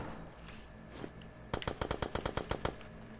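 Automatic gunfire in an open-world survival battle royale game: after quieter background sound, a rapid burst of about ten sharp, evenly spaced shots rings out loud and close.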